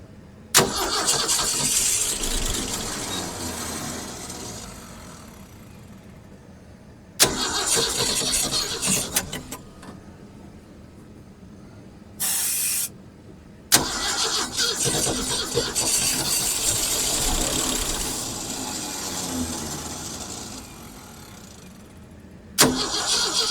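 An old abandoned farm truck engine cranks over and over in long bursts with a few short pauses between attempts; the loud starter whir and sputtering fill the clip, and the engine never settles into a clean idle.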